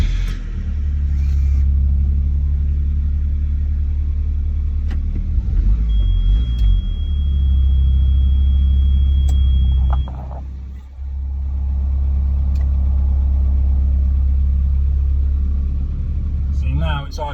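A Nissan Figaro with a cold start fault idles close by, a low steady engine drone that briefly dips and stumbles partway through before settling back to an even idle.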